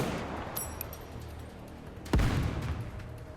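A single loud gunshot blast from Grave's weapon in the video game Nikke, a sharp boom with a rumbling tail after a quiet stretch with faint high chimes.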